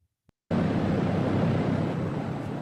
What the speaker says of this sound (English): I don't think they're just testing the engine. I think now they're running it up.